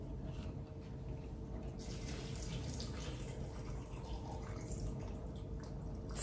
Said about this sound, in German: Und dann gebe ich 300 Gramm Wasser dazu.